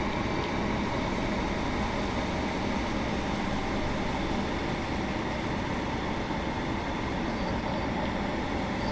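Steady, loud rumble of a British Rail Class 150/2 diesel multiple unit running through snow, heard from inside as a constant engine and wheel drone with no breaks.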